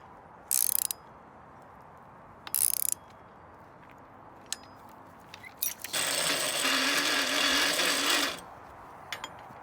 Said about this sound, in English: bolt that guy down, and winch her up, and you're good to go